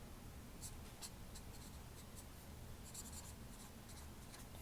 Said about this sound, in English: I'll write it down here.